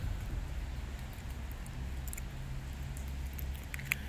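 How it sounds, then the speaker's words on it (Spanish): Rain falls outdoors in a steady soft patter, constant and moderately faint, with a few scattered light drips and ticks standing out near the end. "Está lloviendo."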